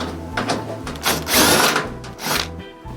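Power drill driving out screws on the top cover of a GE clothes dryer, model GTD42EASJ2WW, in short close bursts of whirring with pauses between them, the loudest run in the middle.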